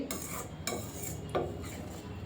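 Milk powder sweet being stirred in a pan, a utensil scraping and clinking against the metal in a few distinct strokes over a low cooking hiss.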